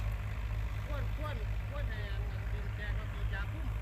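A two-wheel walking tractor engine chugs steadily in a sugarcane field, a constant low throbbing hum close by, while someone talks over it the whole time.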